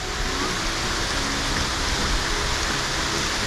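A broad, unbroken roar of falling water rises from a big waterfall beneath a cliff overlook, steady and fairly loud throughout, with no voices over it.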